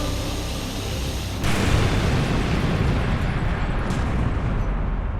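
A sudden loud explosion effect in a Marvel Civil War comic recap bursts in as a broad roaring boom after a noisy lead-in and sustains as a dense rumble to the end.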